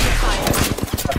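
Rapid bursts of gunfire from a first-person battle royale shooter, loud and dense, dominating the short moment.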